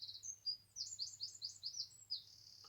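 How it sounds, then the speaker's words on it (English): A robin sings outdoors, a string of quick, high, bright chirps and trills at moderate distance over a soft low hum. "There's Mr. Robin singing away."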